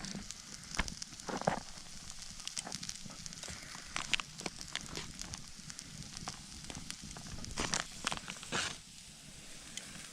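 Marinated deer meat sizzles and crackles in a skillet over a campfire, a soft steady hiss broken by irregular sharp pops and snaps, faint and close, with no voices.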